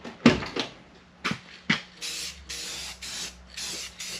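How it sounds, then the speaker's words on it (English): Satin clear coat sprays from a rattle can onto a 1957 Chevy in a paint-blending job, heard as a run of close, steady hissing bursts, each about a third to half a second long, with short gaps between them and brief clicks at the start. "satin clear, so it should satin up as it dries. Man, out of a rattle can"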